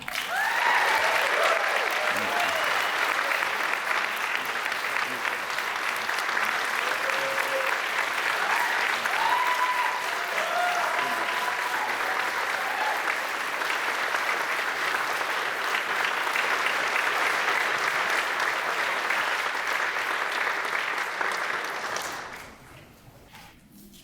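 Sustained audience applause fills a Kentucky Writers Hall of Fame ceremony hall, dense and steady for about twenty seconds before tapering off quickly at the end, with faint voices mixed in.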